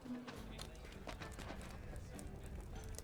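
Horse hooves clip-clop at a steady walking pace in The Lord of the Rings Online, rhythmic and fairly close, with a faint background hum from the game soundtrack.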